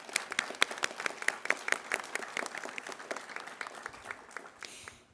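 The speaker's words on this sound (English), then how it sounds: "So let's give him a round of applause" A commencement crowd at St. John's College Santa Fe claps in a scattered, fairly quiet round of applause, with individual sharp claps standing out before it thins and fades near the end.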